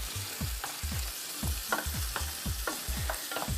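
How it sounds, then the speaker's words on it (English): Tiger prawns and prosciutto sizzle steadily in a pan while a utensil scrapes and stirs in a quick, regular rhythm, close and clear, with no talking. "And I'm going to add in my prosciutto as well. Right, give it a stir."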